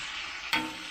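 Clarified butter hits a hot Blackstone flat-top griddle for Philly cheesesteak rolls, giving a steady broadband sizzle that swells suddenly midway as more fat lands on the surface, close and alone with no talk.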